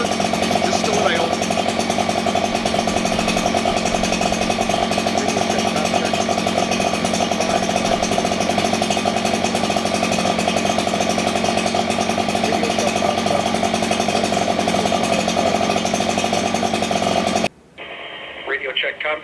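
A motorcycle engine idles steadily and loudly up close, a constant mechanical drone that runs for about seventeen seconds and then cuts off abruptly, leaving only faint background noise.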